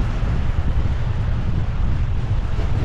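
Gusting wind roars across the microphone at Weymouth Beach, New Zealand, over a low rumble of rough waves, loud and continuous throughout with nobody speaking.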